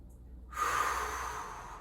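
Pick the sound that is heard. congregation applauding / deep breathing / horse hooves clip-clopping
deep breathing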